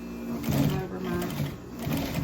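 A sewing machine runs steadily, stitching the seam of a Christmas stocking in a continuous mechanical whir, with a brief pause and speech over it.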